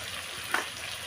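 Tomato, ginger paste and garlic frying in a pan give a steady close sizzle with one brief louder hiss midway through.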